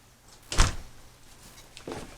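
A house front door pulled shut after a UPS package delivery, a loud close thump followed by a softer knock or latch sound moments later, no voices.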